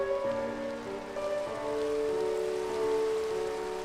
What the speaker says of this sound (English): Nice little rain there.